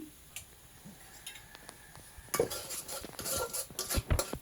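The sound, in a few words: sautéing spices with surma fish and taro in a pan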